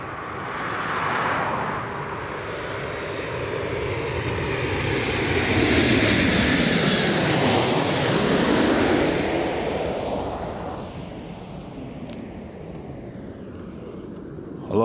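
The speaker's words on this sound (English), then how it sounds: "It's a Jet 2 737-800 coming in." A Jet2 Boeing 737-800 on approach to land on runway 25 at Newcastle Airport, its engine roar building as it passes close overhead, peaking mid-clip with a sweeping whine, then fading away.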